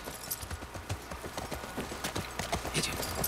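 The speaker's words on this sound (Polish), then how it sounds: "Skakuj na konia." Horse hooves clip-clop at a steady trot in The Last of Us Part I, a dense run of close, crisp hoof strikes over a low game ambience, with no talk.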